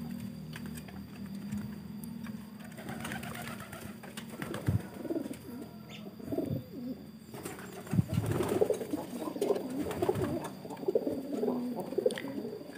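Soft coos of Blorok pigeons sound in short bursts over a steady background hum, with some faint clicking and rustling nearby.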